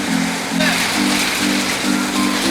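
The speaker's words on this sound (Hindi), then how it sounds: "ये देखो ओले कैसे पड़ रहे हैं" Hail pelts down heavily at a roadside stall on a mountain route, a dense, steady clatter. A low droning hum pulses on and off beneath it.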